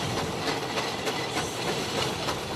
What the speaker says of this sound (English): With its long train of wagons stretched out behind it, the 100-year-old behemoth of the road trundled purposefully down the airstrip.